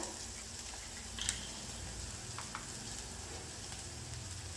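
Potatoes and capsicum frying uncovered in a pan, giving a steady, soft sizzle that runs unbroken throughout at low volume, with a couple of faint clinks and stirring taps.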